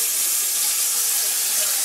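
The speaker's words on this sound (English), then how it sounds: "So you see the water's flowing, man." Water streams steadily from a newly installed kitchen faucet into the sink, a close, constant hissing splash with no voices.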